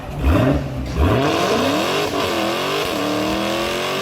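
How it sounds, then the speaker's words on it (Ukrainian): An Audi Q7 engine revs and whines through changing pitches as it drives slowly into a body repair workshop, loud and close, with the tone sliding up and down. "Audi Q7 заїжджає на стабіль."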